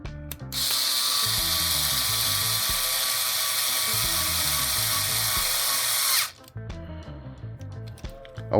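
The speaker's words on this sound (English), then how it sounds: "I'm gonna use a driver to send them home" A power driver runs bolts home on the rear axle of a La Perra Loca builder's kit. It makes a loud, steady high-pitched whir for about six seconds, then cuts off, and clicking ratchety mechanical sounds follow.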